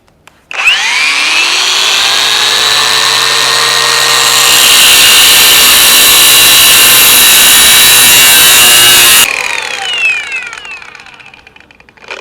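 Litheli U20 cordless angle grinder cutting into a masonry block, a loud high whine that spins up, grinds steadily with a harsh rasping edge for about eight seconds, then cuts off and winds down.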